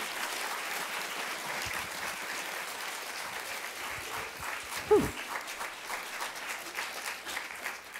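Fairly soft, sustained audience applause at an event, a steady clapping wash with a brief louder thump midway and no speech over it.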